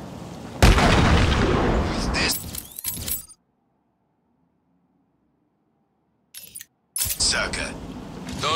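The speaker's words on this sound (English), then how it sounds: "Shot sniper rifle firing again inside Arkham City." Sniper rifle shots in the video game Batman: Arkham City: loud, booming blasts with rumbling tails, one burst early and another later, separated by several seconds of near-silence.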